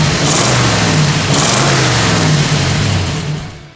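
A 1934 Ford coupe engine runs loud and close, its low rumble surging in two rising revs before easing off at the end, with no voices over it.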